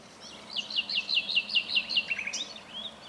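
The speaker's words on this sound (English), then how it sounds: "Just listen to that nightingale in the background, isn't that beautiful?" A nightingale sings a fast run of repeated sweeping, whistled phrases, bright and fairly close, continuous for about three seconds over a quiet outdoor backdrop beside a fishing spot by the water in France.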